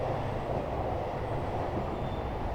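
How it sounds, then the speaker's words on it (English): A train passes in Japan with a loud, continuous rumble and roar that stays steady throughout, close by and without distinct clacks or any talking. "See that train?"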